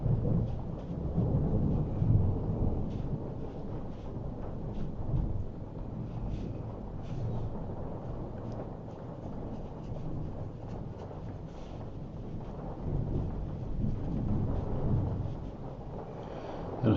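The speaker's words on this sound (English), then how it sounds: "Got a storm going on overhead" Thunder rumbles through a storm overhead, with low, rolling booms that swell and fade in a continuous wash of rain, heard from inside a dry shed near the coast.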